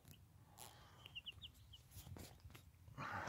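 Young white leghorn hens kept alongside gamefowl, giving a few soft clucks and short chirps, faint against a quiet outdoor background, with a brief louder rustle at the end.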